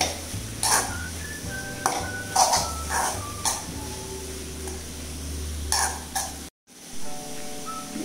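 Chicken momo filling being stirred and mixed in a bowl, with repeated scraping and clinking of a utensil against the bowl, close and fairly busy, broken by a brief silent gap near the end.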